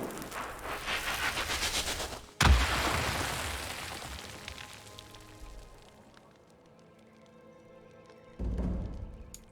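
A jar of ocean fire ignites in the Tyranny role-playing game, giving a sharp burst followed by a long crackling, fizzing decay that fades out before another thud near the end.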